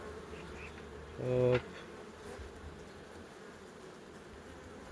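Honeybees at hives in Uzbekistan, with a beekeeper working with queen bees, give a low, steady buzzing hum throughout, and a brief voice calls out once near the start.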